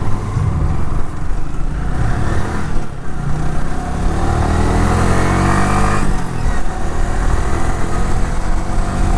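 A motorcycle is ridden along a highway near a toll gate. Its engine drones steadily and loudly the whole way, with a rough mid-pitched hum and wind rush and no pauses.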